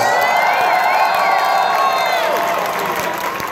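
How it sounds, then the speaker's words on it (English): Concert crowd at a show in Memphis, Tennessee, 2016, applauding and cheering loudly and steadily, with whoops and shouts over the sustained clapping that fades slightly near the end. "give a round, big round of applause"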